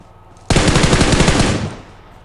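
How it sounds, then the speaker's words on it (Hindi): Burst of rapid automatic gunfire in the video game PUBG, a loud dense rattle of shots starting abruptly and running for about a second before cutting off. "इसके बाद मुझे पीछे से फायर की आवाज़ आ जाती है"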